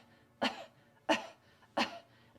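Three short, sharp coughs in a quiet room, evenly spaced about two-thirds of a second apart, used in breathing practice to locate the belly pump.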